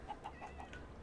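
Chickens cluck in Minecraft, four short evenly spaced clucks over a quiet game background, faint and brief.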